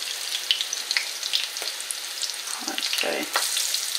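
Squash patties fry in a pan with a steady close sizzle while they are turned over, and a few brief words are spoken over it.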